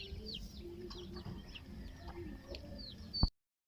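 Native chickens, some with colds, cluck and squawk repeatedly in a farm setting, several short calls overlapping over a low background, before a sudden bump and silence at the end.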